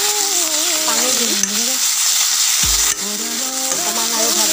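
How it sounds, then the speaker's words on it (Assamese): Magur fish curry ingredients frying in a pan give off a steady, dense sizzle that runs the whole time, with a voice speaking over it. "অকণমান আৰু ভাজি ল'ম"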